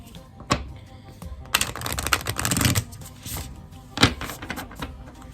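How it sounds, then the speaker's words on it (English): A new, stiff deck of cards is shuffled close up, giving a couple of crisp riffling bursts and scattered snaps and taps, fairly quiet overall, with no talking. "This is a new deck, so it's not wanting to shuffle as smoothly."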